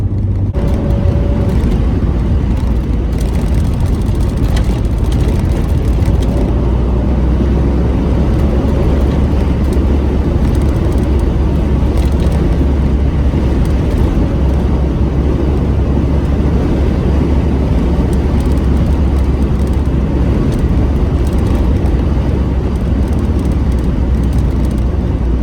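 A Nissan 300ZX Z32 with an automatic transmission and a track-prep setup drives on a country road. Engine and road noise hold loud and steady throughout, with the engine pulling continuously.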